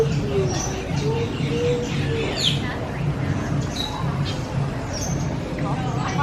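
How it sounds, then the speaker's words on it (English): The world's largest pigeon cooing at Animal Kingdom on a rainy day, its low repeated coos mixed with other bird chirps over steady rain-like background noise and people talking nearby. "This one is the world's largest pigeon."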